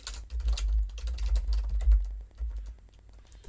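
Fingers type on a computer keyboard in quick, irregular bursts of close, clicky keystrokes, slowing to scattered taps near the end.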